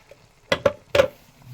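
A few quick spoon scrapes in a pan of tomato puree cooking in oil, three short strokes close by against an otherwise quiet background.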